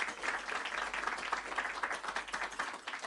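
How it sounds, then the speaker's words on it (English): A temple audience at an ISKCON gathering in Coventry claps steadily, a dense, fairly faint patter of many hands that runs for about three seconds without pause. "Big round of applause for him, please, again."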